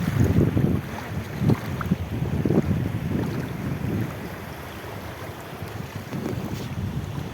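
A boat moving over a calm sea, with steady wind buffeting the microphone and a broad rush of water and engine noise that rises and falls in waves throughout, with no voices.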